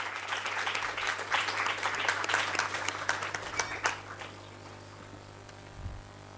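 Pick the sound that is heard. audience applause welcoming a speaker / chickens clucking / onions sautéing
audience applause welcoming a speaker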